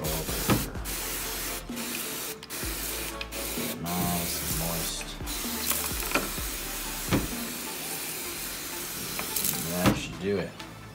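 Repeated sharp hissing bursts of a spray bottle misting water in a pink toed tarantula's arboreal enclosure, several quick spritzes in an irregular rhythm, close and fairly loud over faint background noise.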